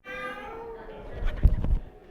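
A person imitates a cat's meow, a drawn-out nasal mew lasting about a second, followed by soft rustling and thumps; no words spoken.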